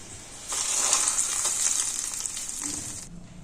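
Hot asafoetida tempering poured onto bisibelebath sizzles sharply. A loud hiss bursts in after a quiet start, holds for about two and a half seconds, then cuts off abruptly.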